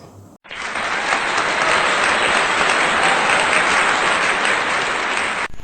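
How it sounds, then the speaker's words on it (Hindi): An audience at a Navratri special evening programme gives loud, sustained applause to welcome two young girls about to perform the Durga aarti, a dense, even roar of clapping that starts abruptly and holds until it cuts off. "हम जोरदार तालियों से स्वागत करते हैं प्यारी प्यारी बच्चियों का"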